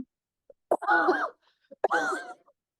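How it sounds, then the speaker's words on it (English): Two harsh, wet coughs close to the mic, each a sharp burst followed by a rough, rattling tail, separated by a short pause. "That cough was not planned."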